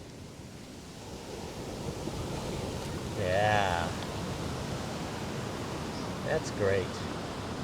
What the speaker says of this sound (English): Let's see if we can just get a shot of the water coming in.